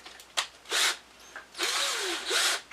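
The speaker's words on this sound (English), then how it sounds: "take a nice small drill bit. All you want to do is just drill right down through the head." Small drill bit boring through old aluminum rivet heads on a Jeep CJ7 upper door panel trim, heard as several loud, close whining bursts of drilling separated by short pauses.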